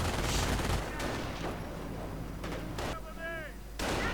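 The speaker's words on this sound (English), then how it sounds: "And some artillery going in." Artillery shells firing and exploding in a real-time strategy war game during a 1v1 match, heavy booming blasts and gunfire rumbling throughout, with a whistling incoming round near the end.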